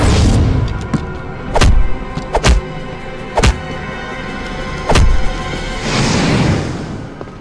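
Blasts in a Chinese action film set during the anti-Japanese war: several sharp, loud booming cracks at irregular intervals, each with a brief tail, ending in a longer rushing burst.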